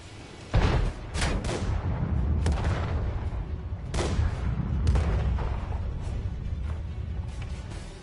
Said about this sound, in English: Artillery. Yeah, that's what got me, Stu.